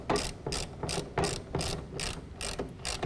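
A ratchet wrench with a 1/2 inch socket tightens a clamp on an UnderCover Armor Flex tonneau cover, giving a loud, close, rhythmic series of about eight raspy clicking strokes, evenly spaced and uninterrupted by speech.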